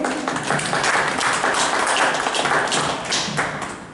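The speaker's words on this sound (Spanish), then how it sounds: "Le damos por favor un aplauso al maestro Roque" An audience at a book presentation applauds a speaker, giving a dense, steady burst of clapping that carries on for several seconds and then begins to fade.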